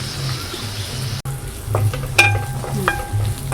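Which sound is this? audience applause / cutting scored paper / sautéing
sautéing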